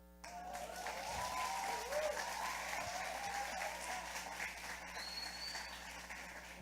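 Church congregation claps to welcome a pastor, a steady mass of applause at moderate distance, with voices calling out over it and a faint electronic hum underneath.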